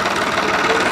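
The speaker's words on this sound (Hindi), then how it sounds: "2024 का मॉडल। दूसरे के लो में और पूरे लीवर डाल करके 4 पट्टे रूटर पर हैं, 8 फुट का रूटर है ये" A 2024-model tractor pulling an 8-foot rotavator in second low gear gives a loud, steady engine drone with a rough, throbbing mid-range roar, heard close up.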